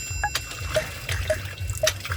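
Water trickling and splashing from a pump onto the ground, with intermittent drips and small gushes that stay fairly close and steady, and no talking.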